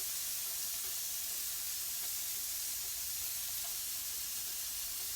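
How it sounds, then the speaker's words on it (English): Vegan calamari fries in a pan, giving a soft, steady sizzling hiss with faint crackles, quiet and unbroken throughout. "now place it in the pan just like I did"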